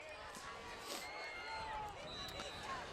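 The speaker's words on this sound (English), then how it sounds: "now we're hearing the Somerset crowd on the other side getting loud." Somerset-Berkley high school football crowd across the field at a game against Durfee, a dense, steady roar of many voices and cheers that swells and holds loud throughout.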